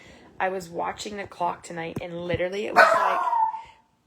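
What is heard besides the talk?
puppy barking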